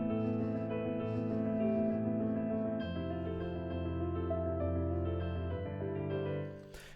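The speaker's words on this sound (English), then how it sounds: "one of the most probably recognizable and famous pieces of piano music" Solo piano playing a slow, sustained left-hand bass line under chiming right-hand notes, close and even, fading out at the end.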